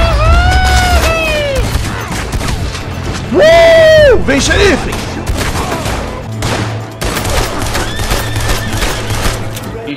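Rapid bursts of gunfire ring out in a Red Dead Redemption 2 shootout with police, loud overlapping shots and cracks under excited Portuguese shouting from a player.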